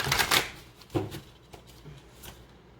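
Oracle cards being shuffled by hand, a few quick riffling bursts early on followed by softer, sparser card flicks, close and fairly quiet with no talking.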